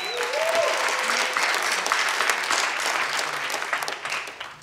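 A conference audience at a floatation therapy event applauds in a steady, dense patter of clapping that lasts throughout and tapers slightly at the end, with a brief voice near the start.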